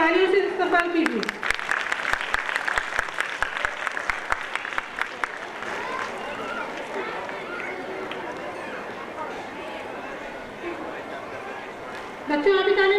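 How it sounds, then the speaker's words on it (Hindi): A large school audience applauds guests arriving on stage at an annual gathering, with sharp individual claps at first that swell into continuous crowd clapping, and a voice speaks briefly at the start and end. "तालियों से इस्तकबाल कीजिए।"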